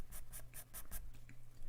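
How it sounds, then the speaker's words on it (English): A pastel pencil is sharpened in a sharpener, making five or six quick, scratchy grinding strokes in an even rhythm, close and soft, before a brief quiet scrape at the end. "give that a bit of a sharpen till it's really pointy"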